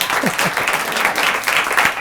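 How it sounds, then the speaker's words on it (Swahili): An audience at a show applauds, with dense, steady clapping filling the whole clip at a fairly loud, even level and a few voices faintly mixed in. "Wapi makofi ya kila mtu?"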